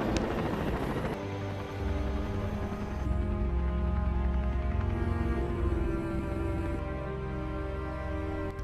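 A helicopter drones loudly with a steady rotor thrum and engine whine, continuous and close, with no other sounds.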